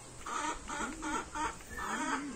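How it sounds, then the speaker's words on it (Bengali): Chicks and hens cluck in short repeated bursts while pecking at feed, about five close, moderately loud clucking phrases with no talk over them. "মুরগির বাচ্চাগুলো খাবার খাচ্ছে।"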